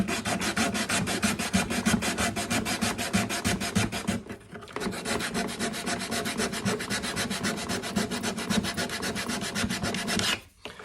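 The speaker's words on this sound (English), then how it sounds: "going with the sandpaper is slow because I'm just getting the dust out" Sandpaper rubbed back and forth on the dovetail joint of a Gibson J185 guitar neck during a neck reset, a steady rapid rasping scrape with a brief pause near the middle, close and alone.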